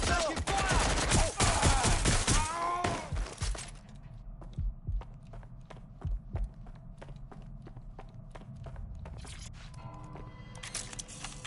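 A loud burst of close gunfire in the video game Watch Dogs: Legion on PS5 fills the first few seconds, then gives way to sparse, scattered clicks and steps in a quieter stretch.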